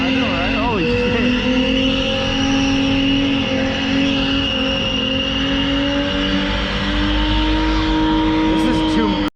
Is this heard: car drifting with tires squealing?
yes